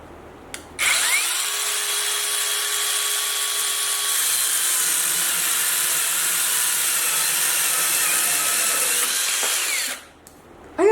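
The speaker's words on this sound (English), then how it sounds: "Let's see how well this cuts through it." A handheld power tool cuts through a thick piece of wood clamped in a vise, starting with a sharp whine, holding a loud steady buzzing drone for about nine seconds, then stopping abruptly.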